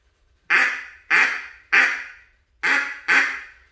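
Five sharp mallard quacks blown on a duck call, loud and close, in a steady rhythm with one slightly longer gap partway through.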